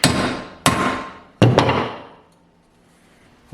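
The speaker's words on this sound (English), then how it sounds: "now I'm going to beat this end over with a hammer" Three loud, ringing hammer blows bending over the end of a metal bar, spaced about a second apart, each strike decaying into a metallic ring before silence.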